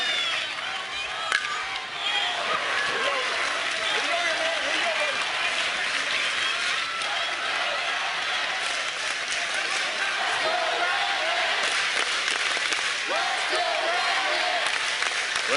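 A big crowd at a 2015 Little League World Series baseball game between Red Land and South Carolina roars steadily, with cheering, clapping and chanting blending into a dense, continuous wall of noise that lasts throughout.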